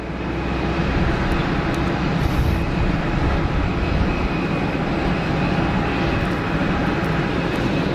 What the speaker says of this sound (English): Still got the reversers hanging out there.